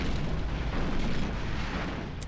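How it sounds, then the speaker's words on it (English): Artillery fire in the Panzer General II strategy game: a continuous dense rumble of heavy booms, loud and unbroken, with no voices. "the artillery is going to just clear this space"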